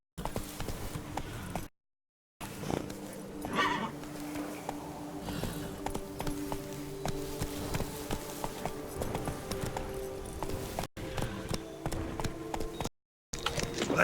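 Horse hooves gallop in a steady clip-clop rhythm through The Witcher 3, a continuous close trot under a low game soundscape, with a couple of brief silent gaps and a faint voice now and then.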